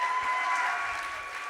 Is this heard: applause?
yes